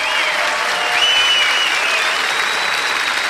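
An evening television show audience at a Grand Show music duel applauds loudly, dense continuous clapping that fills the whole stretch at a steady level, with a faint voice briefly audible over it.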